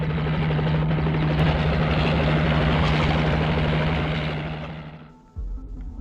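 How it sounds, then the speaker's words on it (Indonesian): A helicopter passes close and loud with a steady rotor drone and throbbing low hum, then cuts away abruptly near the end to a quieter low rumble. "helikopter tadi kembali muncul"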